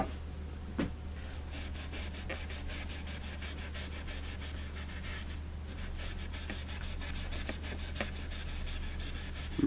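Steady hand rubbing across a wooden radio cabinet's finish with the grain, working a small mar, as a continuous close scratchy friction that runs the whole time with a few faint knocks and no talking.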